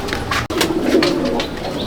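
A pigeon coos in a breeding loft in Garia, Kolkata: a few soft, throaty rolling coos, close and fairly loud, broken by a brief sharp click near the start.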